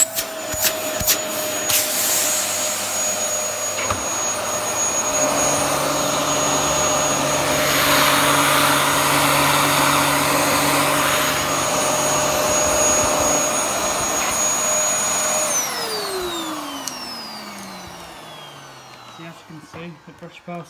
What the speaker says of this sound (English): I'm just going to quickly show you the suction from the top